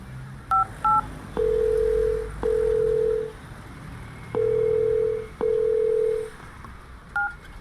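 Phone keypad tones on a call placed after arriving in Ghaziabad: a few short beeps, then long steady ringback tones repeating with pauses, and brief beeps again at the end, loud and close.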